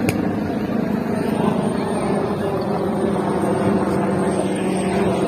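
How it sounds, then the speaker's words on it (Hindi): Aircraft drone, most likely a helicopter passing overhead at an outdoor sports day in Qatar, holding as a steady broadband rumble for the full length with no clear rise or fall. "हेलीकॉप्टर भी जा रहा है यार।"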